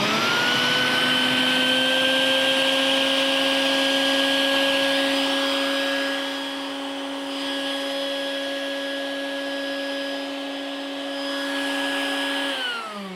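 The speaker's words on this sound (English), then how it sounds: "are you ready for me to turn on the vacuum? Yes. Let the shrink wrapping begin." A vacuum pump drawing air out of a plastic sheet wrapped around a person, a loud steady whine with strong tones that holds for about twelve seconds and then cuts off, with no talk.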